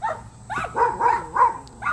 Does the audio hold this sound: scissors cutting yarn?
no